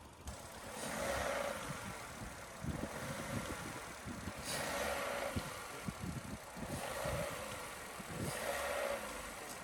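A Vauxhall Corsa engine fitted with a ram air filter idles steadily nearby, a low rumbling hum with gentle periodic swells in loudness.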